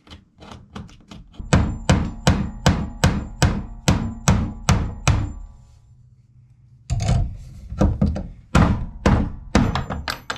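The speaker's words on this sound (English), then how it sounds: "So I gotta pound a hole through there with a nail or something." Pounding a hole through material with a nail, a series of sharp, loud, evenly spaced thunks in two bursts separated by a brief pause, struck close up with no talking.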